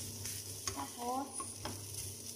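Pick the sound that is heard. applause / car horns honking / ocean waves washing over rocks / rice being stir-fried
rice being stir-fried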